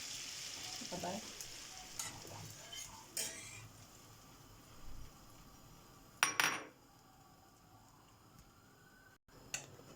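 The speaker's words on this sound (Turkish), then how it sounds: "Şimdi tavama 2 yemek kaşığı kadar tereyağı koydum." Butter with a splash of oil sizzles in a frying pan: a steady, low crackle with a few sharp utensil clinks and knocks against the pan, and no voices.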